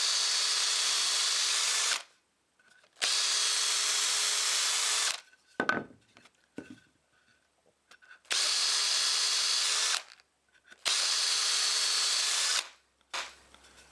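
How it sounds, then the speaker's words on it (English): A power drill countersinks holes in wooden seed sieve pieces, four loud sustained bursts of about two seconds each, separated by short pauses with quieter handling and rubbing noises. "so I will countersink on the outside"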